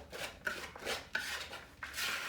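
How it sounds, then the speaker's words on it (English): Grated carrots, pecans and raisins stirred together in a bowl, giving repeated scraping, rasping strokes with small clunks against the bowl in a steady rhythm, close and moderately quiet. "And you just stir it to combine it."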